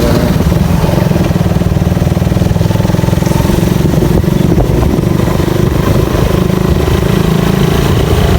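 Motorcycle engine on a ride in Bicol, a loud, steady close-up drone with a rapid pulsing beat throughout and no talking.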